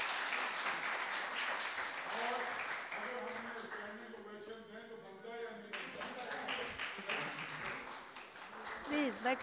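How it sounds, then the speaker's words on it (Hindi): Audience applause at an Urdu literary gathering as the session's chairperson is welcomed, fairly soft clapping that swells and ebbs, with a voice speaking over it partway through. "आप सबकी भरपूर तालियों में"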